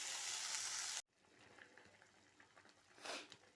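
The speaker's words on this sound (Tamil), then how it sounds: "கொத்தமல்லி கருவேப்பிலை எல்லாத்தையும் போட்டு நல்லா வதக்கிடுங்க" Onion, tomato, mint, green chillies, coriander and curry leaves sautéing in hot oil for brinjal gothsu, a loud, dense sizzle that cuts off abruptly, then softer crackling and stirring scrapes with a brief hiss swell near the end.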